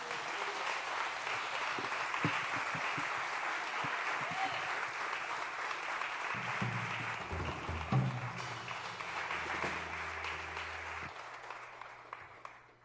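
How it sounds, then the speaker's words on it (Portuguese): A church congregation applauds at a worship service, a dense sustained wash of clapping from many hands lasting throughout, with some low rumble and voices beneath it toward the end. "Aplauda mais uma vez."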